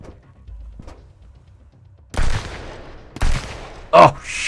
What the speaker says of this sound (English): I don't know what he's shooting at me